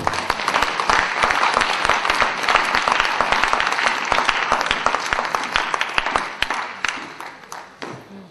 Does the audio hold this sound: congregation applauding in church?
yes